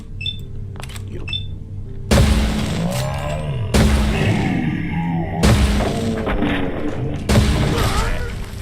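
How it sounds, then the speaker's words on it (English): Gunfire shooting up a bar in the video game Fallout London: several loud, booming bursts of shots close by, each one followed by crashing, shattering debris, after a brief quiet opening with light clinks. "shooting up a bar seems as fun as you would think"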